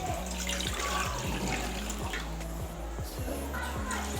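Roughly one and a half litres of water poured into a cooking pan on the stove, a continuous splashing gush lasting several seconds with faint rattling alongside.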